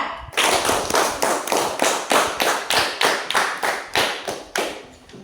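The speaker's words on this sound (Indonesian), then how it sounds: "Tepuk tangan untuk kelompok 4." Classroom applause for a student group, rhythmic bursts of claps roughly every third of a second, close and fairly loud, with no talking over it.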